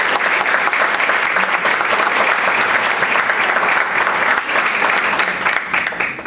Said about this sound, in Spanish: Les pido un fuerte aplauso para todos ellos.